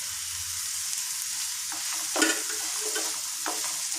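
Curry leaves and green chillies frying with sautéed onions in a pan, a steady loud sizzle with occasional stirring scrapes close by.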